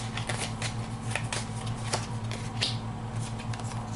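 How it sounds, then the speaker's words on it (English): A deck of playing cards for a board game is shuffled close up, a continuous papery riffling with crisp flicks over a low steady hum. "And we'll shuffle those cards"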